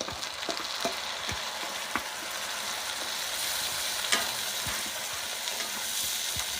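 Onion paste fries in a pan with a constant, hissing sizzle, close by, punctuated by occasional sharp clinks and scrapes of a spatula stirring against the pan.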